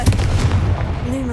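A Confringo fire spell bursts in Hogwarts Legacy, a short loud blast with a low rumbling body that quickly fades into a thin whistling tail.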